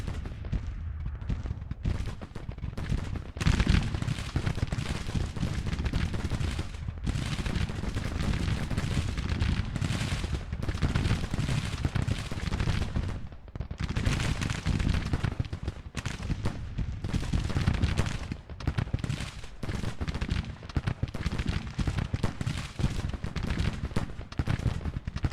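Continuous massed gunfire and artillery from a Civil War battle in Grand Tactician: The Civil War, dense crackling volleys and booming blasts rolling without pause, loud and sustained throughout.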